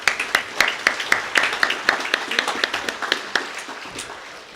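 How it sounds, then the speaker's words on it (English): Audience applause at an organization's annual meeting, a brisk burst of many hands clapping at an even, moderate distance, steady for several seconds and slowly thinning toward the end. "Let's give them a round of applause, please."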